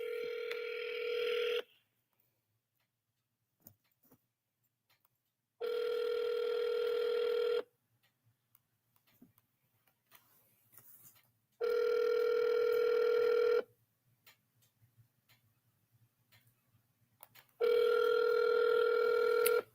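A phone call to return a missed call: four evenly spaced stretches of the ringback tone, each about two seconds long, separated by quiet pauses, clear and fairly close with no talking.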